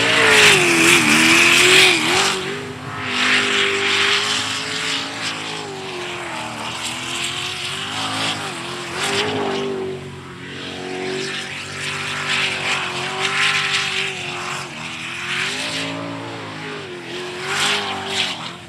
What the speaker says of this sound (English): Just a different sound on that unlimited boat.